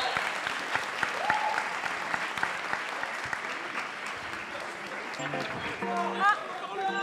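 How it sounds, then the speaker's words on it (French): Audience applause at a coding bootcamp demo day in Paris for a web development class, a dense steady clapping with scattered voices and brief talk, easing slightly near the end. "applaudissez-vous parce que je pense que vous le méritez"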